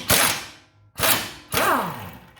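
A John Deere Z920m mower's last bolt coming free during hydrostatic transmission removal: three sharp metallic cracks of an impact or ratchet tool, each ringing briefly and fading, close and loud, with no talking.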